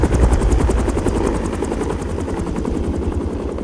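A helicopter's rotor thumps in a fast, steady beat, loud and close, with a broad engine roar underneath throughout.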